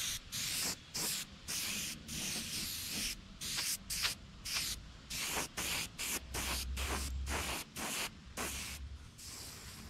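Paint spraying a fine mist onto a crappie replica fish mount, repeated short bursts of airbrush hiss separated by brief pauses, close and steady.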